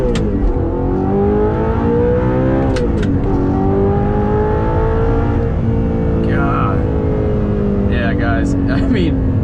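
An Audi R8 V8 with a gated manual gearbox revs hard through a first gear pull, its engine note climbing steadily and loud, with a brief dip and shift before rising again, heard from inside the car.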